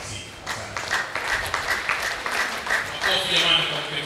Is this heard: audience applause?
yes